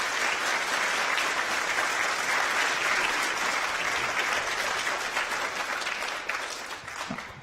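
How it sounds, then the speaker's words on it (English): Sustained applause from a high school band concert audience for the percussionists, steady dense clapping throughout that thins slightly near the end. "let's give a round of applause for our percussionists for covering everything back there"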